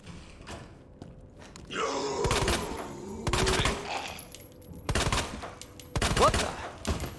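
Shotgun blasts from the Resident Evil 2 video game, several loud sharp booms spaced a second or so apart with ringing tails and quieter game ambience between, no talking.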